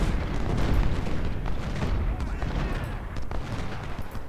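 Dense, continuous battlefield gunfire and booming from 6-pounder cannon artillery in the Civil War strategy game Ultimate General: Civil War, rolling volleys layered over one another at steady loudness.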